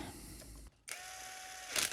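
Screws being driven back into the housing of a pedestal fan: steady close mechanical clicking and scraping, then a short quiet gap and a louder scratchy burst near the end.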